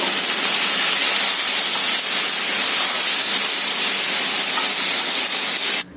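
Okra frying in hot oil with curry leaves and coriander in a pan for Guntur-style bendakaya pulusu, a loud steady sizzling hiss that runs evenly and cuts off abruptly at the end, with no talk.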